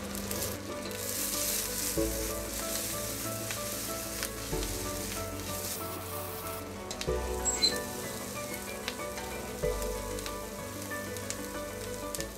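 Roasted vegetables with green peppers and garlic fry in hot butter in a pan, giving a steady, dense sizzle throughout with occasional stirring scrapes and no voices.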